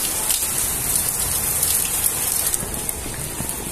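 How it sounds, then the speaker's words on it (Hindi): Heavy rain pours steadily, a dense, close hiss of drops pattering on hard surfaces with no letup. "देखिए कितनी तेज बारिश हो रही है"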